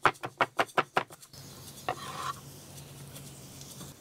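Scallions hit a hot, lightly oiled pan with red onion and sizzle in a steady, soft hiss, after a quick run of about six rhythmic knife chops at the start.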